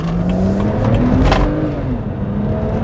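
A BMW 130i hatchback accelerates hard up through its gears, the engine note climbing loud and close, with a brief shift burst midway before the revs pull up again.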